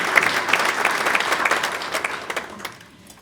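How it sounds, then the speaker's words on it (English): Applause from a full room at a county government gathering, brisk clapping with a few sharper claps standing out, tapering off as it ends. "Yeah, let's applaud that."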